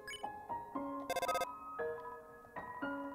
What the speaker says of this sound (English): Nobody picked up Toriel's phone.